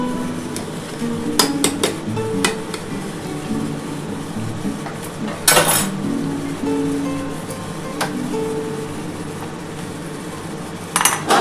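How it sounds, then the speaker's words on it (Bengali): A metal lid clanks onto a cooking pot of shukto over a gas flame, with several sharp clinks and one bright clatter among steady stovetop sizzle and light kitchen rattles. "আমি এবার গ্যাস আস্তে করে ঢাকা দিয়ে দিলাম"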